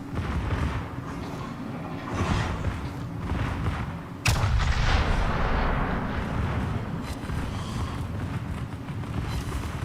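Warship secondary guns firing in a naval combat video game, one sharp loud crack standing out over a steady heavy rumble of distant gunfire and engine noise.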